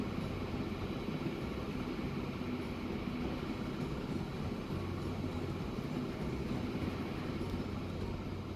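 A train rumbles steadily along a railway in the video game Transport Fever 2, a constant low rolling drone of wheels and cars with no pauses, moderately quiet and without any voices.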